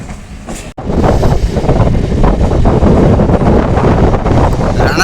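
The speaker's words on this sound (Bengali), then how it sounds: "রানাঘাট ছেড়ে আমাদের ট্রেন এখন ঢুকছে কালীনারায়ণপুর রেলওয়ে স্টেশনে।" A train rolls into Kalinarayanpur railway station after leaving Ranaghat, a loud steady rumble with clickety-clack rhythm and heavy wind buffeting the microphone, beginning after a brief sharp cut.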